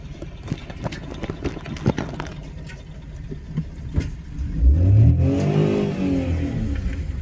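A car drives over a rough, potholed road near Batasingaram, rocking and jolting with a steady background rumble. The engine rises into a louder, close revving surge toward the end.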